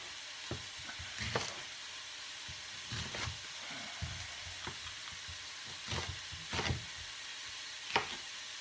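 Sliced onion and pepper sizzle in a pan under a steady frying hiss, with occasional sharp pops and spoon scrapes at irregular intervals, close by and without talk.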